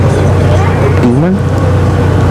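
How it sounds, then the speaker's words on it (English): A turbocharged BMW M5 at a drag strip makes a loud, steady engine drone with deep rumbling tones, and a voice talks over it. "It's turbo. Yeah, I'm guessing it might be like an M5."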